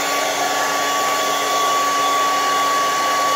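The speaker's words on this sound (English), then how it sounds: "Then I'll just take the blow dryer." A handheld blow dryer runs continuously, drying curly hair, with a loud, steady rushing airflow and a constant tonal whine close to the microphone.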